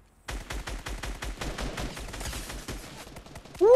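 Assault rifle fire in Fortnite Mobile rings out as a fast run of sharp, evenly spaced shots, loud and close, ending abruptly once the ammo runs dry, with no voices over it.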